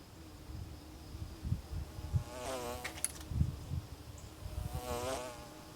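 Bees buzzing around a construction site, their drones rising and fading in two close passes alone over faint low background rumble and occasional thuds.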